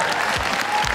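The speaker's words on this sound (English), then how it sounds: "Can we get a round of applause for that?" Audience applause fills a comic convention panel room, a dense, steady wash of clapping from a crowd that holds at even strength for the whole second.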